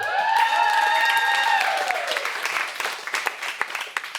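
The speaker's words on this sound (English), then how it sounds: "I feel like someone is like cheering, but it sounds like you're slightly booing every time I announce someone." An audience at a live new-works performance night cheers with loud whoops and rising shouts. The voices give way to dense clapping that grows more scattered and fades toward the end.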